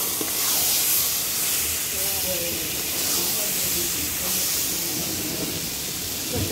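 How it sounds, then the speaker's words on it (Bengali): Panch phoron, five-spice seeds, sizzles and hisses in hot oil during homemade olive pickle cooking, a dense continuous crackle close by with faint stirring scrapes. "পাঁচফোড়ন দেওয়া হলো"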